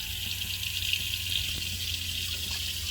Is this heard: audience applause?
no